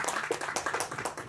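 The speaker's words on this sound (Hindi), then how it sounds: "प्लीज एक बार जोरदार तालियां राजीव सर के लिए" An audience claps for Rajeev at a film's first-look poster launch event, a brief patter of scattered applause, moderately quiet and fairly sparse.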